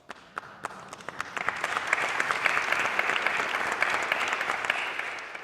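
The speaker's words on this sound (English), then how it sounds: "you're the ones who deserve the hand of applause" A crowd at the 2018 University of Oklahoma State of the University address applauds steadily, clapping building from scattered claps into a full, sustained round that holds at a constant level throughout.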